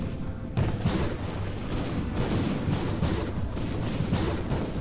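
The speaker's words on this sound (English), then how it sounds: "here's the artillery to save the day" Heavy artillery fire in the strategy game Harvest: Massive Encounter booms repeatedly in dense, overlapping blasts, loud and sustained throughout with no voices.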